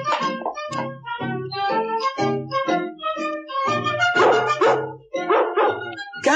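Newborn puppies on a storybook record of The 101 Dalmatians yip and bark in a busy, overlapping chorus of many small high-pitched voices, close and continuous.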